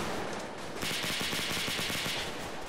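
Video-game gunfire rattles in a sustained automatic burst, loud and dense throughout with no voices over it.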